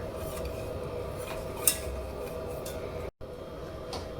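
A spoon stirs pudding thickened with starch in a pot over medium heat, with soft intermittent scrapes and a small clink against the metal, quiet and close.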